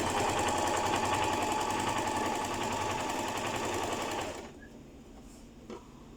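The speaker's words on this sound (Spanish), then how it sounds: "procedemos a pasar zigzag en cada una de las costuras que hemos realizado" A sewing machine runs steadily and close while zigzag stitching along skirt seams, a dense continuous whir that stops after about four seconds, leaving a quiet room with a faint bump.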